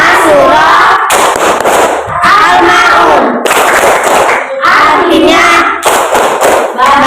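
A class of children clap and chant together in a rhythmic classroom routine, loud and close, with their voices forming most of the chant and hand claps mixed in.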